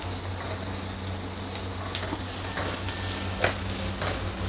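Onion sautéing in butter in a pan over medium heat, a steady close sizzle with scattered stirring scrapes and clicks throughout.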